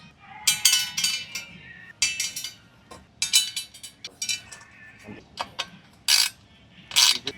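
Metallic ratcheting clicks and clinks from Allen bolts being tightened on accessories for a Royal Enfield Himalayan 452 motorcycle, coming in several separate bursts of rapid clicking with short pauses between, close and fairly loud, with no talking.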